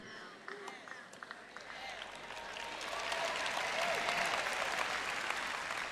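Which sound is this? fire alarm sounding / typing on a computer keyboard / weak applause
weak applause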